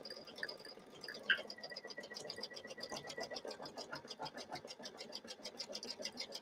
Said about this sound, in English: this one being a 8x6 design, and it's taking about 35 minutes to stitch